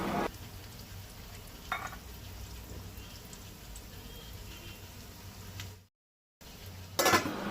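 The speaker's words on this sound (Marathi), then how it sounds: "तेल तापलें काय ना रवो लावन दवरलेले कटलेटीचेर तव्यार घालपाक जाय." Fish cutlets coated in rava sizzle in oil on a tava, a steady soft hiss with occasional clinks of a utensil, then a brief silence before a louder burst of frying.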